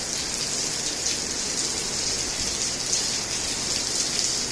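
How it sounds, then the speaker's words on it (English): Steady rain falls outside on a hot day, a continuous even hiss of drops on surfaces with no voices, near and fairly loud throughout. "It's raining here."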